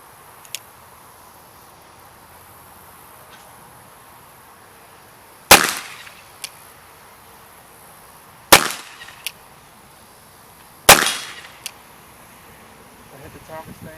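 Three sharp, loud shots from an 1851 Colt Navy .36 caliber revolver fired at a target 25 yards away, spaced a few seconds apart, each with a short ringing tail, with faint softer clicks between them.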